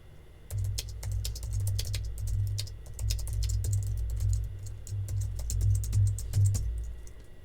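JavaScript code is typed on a computer keyboard in a steady run of light, close key clicks with uneven rhythm, set over a low background hum.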